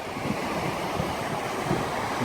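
Gushing torrents of the River Tyne at Wylam near the salmon leap, a dense unbroken roar of moving water heard close, mixed with wind buffeting the microphone.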